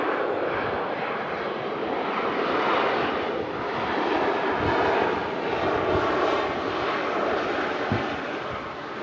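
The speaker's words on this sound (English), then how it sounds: "Lufthansa arriving in from Munich." A Lufthansa airliner from Munich lands at Manchester Airport, producing a sustained, moderately distant roar of engine noise that rises and falls gently in waves, with no talk.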